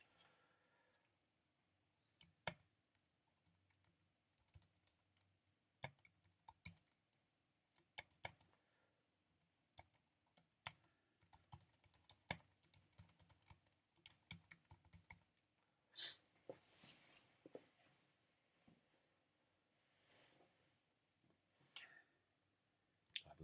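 Typing code on a computer keyboard, scattered quiet key clicks in short irregular bursts, with faint whispered talk at points.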